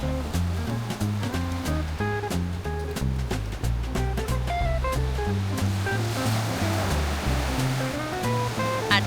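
Atlantic Ocean waves wash onto a Nova Scotia beach in a steady, rushing surf, with music playing prominently over the water.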